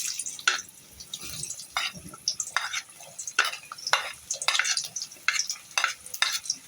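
Chopped onions fry in hot oil while being stirred, making a sizzling crackle broken by repeated sharp scraping strokes of a spoon against the pan.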